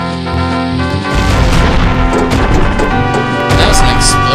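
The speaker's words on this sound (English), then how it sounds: "That was an explosion." Bomb flower exploding on Death Mountain in The Legend of Zelda: Ocarina of Time, a loud game blast that booms and crashes over background music, with a second burst near the end.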